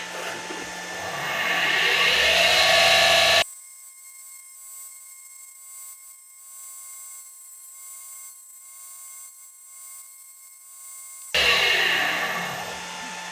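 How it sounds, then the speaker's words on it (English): Deckel SO single-lip grinder grinding a back relief onto a D-bit by hand, a loud, steady, broadband grinding rasp at the start and again at the end, with a quieter stretch of low hum in between. "now we gotta grind a back relief right there, and we'll just do that by hand"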